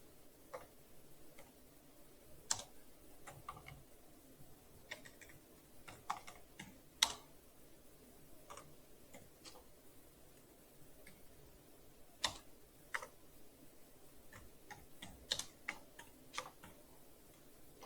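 Keys on a computer keyboard click in an irregular, sparse pattern, faint and close, with single taps and short bursts separated by pauses over a quiet background.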